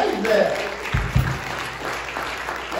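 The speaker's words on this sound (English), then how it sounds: "give the Lord a hand clap of praise" A church congregation claps hands in praise during a service: a short burst of clapping mixed with a speaking voice and room noise, fairly close and moderately loud.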